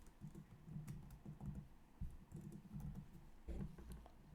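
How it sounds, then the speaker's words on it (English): Keys clatter on a computer keyboard while a short greeting is entered in Python code, a quick irregular run of close clicks and taps without talk. "Let's write hello John"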